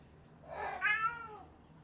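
A house cat gives a single drawn-out meow, rising then falling, close by and clear, in an otherwise quiet room.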